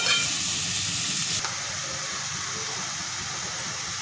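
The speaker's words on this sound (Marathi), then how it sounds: "तर ह्याच्यामध्ये आपण पडवळ साफ करून स्वच्छ धुवून घेतलेली आहे ते टाकून घेऊयात आणि परतायचं आपल्याला" Chopped snake gourd dropped into a hot pan and stirred, giving a loud steady sizzle that quiets slightly after a sharp clatter, with constant frying hiss and no talk.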